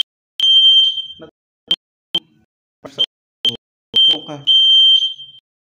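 A room smoke detector emits piercing, high electronic beeps, some long and some clipped, with sharp clicks and a person speaking between them indoors.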